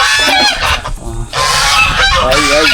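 A goose honks loudly and repeatedly up close, harsh nasal calls coming in bursts with a brief pause in the middle.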